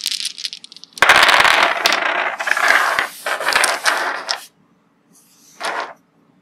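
Orange tabletop dice rolling, a loud clattering burst of dice tumbling and knocking on a hard surface, then trailing rattles, a pause, and one shorter clatter near the end, close with no voices.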